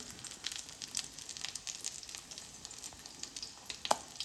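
Batter-dipped bread for spinach egg toast sizzling on a tawa over a low flame, a steady soft frying crackle with scattered pops, fairly faint and close, no talking.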